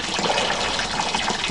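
Water gushes steadily into a tank meant for ducks to swim in, a close, continuous splashing pour with no voices.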